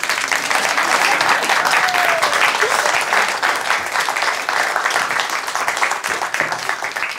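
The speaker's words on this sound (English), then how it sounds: "It would have been so incredibly awkward if you didn't applaud there." Sustained applause from a live poetry show audience, dense steady clapping filling the room at even loudness from start to finish, with no voices standing out.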